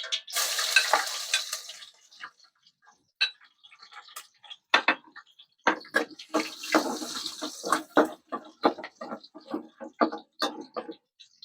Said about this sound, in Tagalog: Igisa na natin tong pang tinola. Ilagay na natin itong bawang.